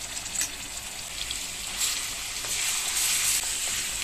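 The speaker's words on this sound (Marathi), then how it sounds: "एक मिनिट आलं लसूण पेस्ट फ्राय करून घेऊ." Ginger garlic paste sizzling in hot oil in a kadhai for a chicken fry, a steady close frying crackle with occasional stirring scrapes and no voices.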